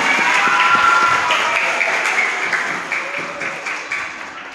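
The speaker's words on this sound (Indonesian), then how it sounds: "Tepuk tangan yang meriah." An audience at an elementary school assembly on bullying-free schools claps in a dense burst of applause that gradually fades over a few seconds.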